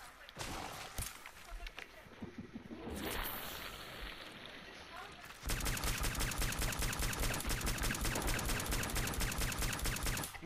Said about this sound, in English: This plasma 10mm pistol kills it.